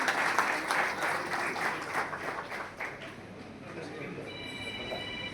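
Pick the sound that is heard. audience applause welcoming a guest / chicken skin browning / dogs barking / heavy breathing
audience applause welcoming a guest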